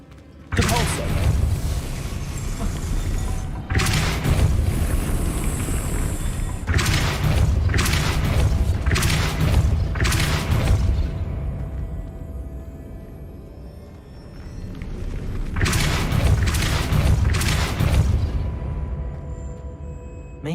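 Depulso spell effect in the Hogwarts Legacy video game, a series of heavy booming thuds with rumbling low end, several repeated bursts separated by brief quieter gaps, under game ambience.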